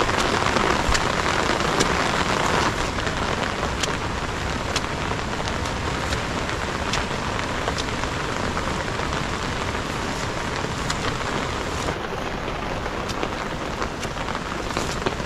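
Heavy rain pours down steadily and loudly for the whole stretch, a dense continuous hiss with scattered sharper drops, with no talking.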